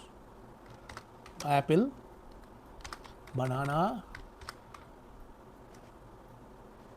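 Computer keyboard typing while entering a list of fruits in Python code: faint, quick key clicks scattered throughout, with a person briefly speaking over them.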